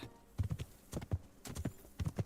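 Horse hooves clip-clop on the ground in the video game Avowed, a steady run of hollow knocking beats in pairs and clusters, fairly close and moderately loud, with no talk over them.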